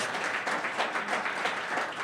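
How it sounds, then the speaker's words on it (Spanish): A church congregation claps for the Lord during a Spanish-language sermon, producing a steady, dense wash of applause that holds at an even level throughout, with no voices over it. "¿por qué no le da un aplauso al Señor bien fuerte, fuerte, fuerte?"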